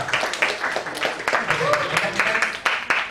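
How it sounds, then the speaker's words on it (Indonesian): A school visit group at a technopark applauds in a short, steady round of clapping lasting about three seconds, with a voice over the clapping. "Ya, tepuk tangan untuk kita semua."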